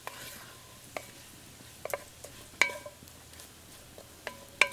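Food sizzling softly in a pan with a few sharp scrapes and clinks from stirring, a backwoods hunting-season supper being cooked.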